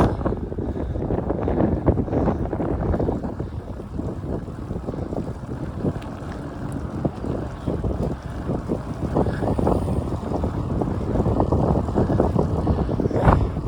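Steady wind on a drizzly day buffets the microphone with rough, gusty rumbling throughout, water sloshing faintly beneath it.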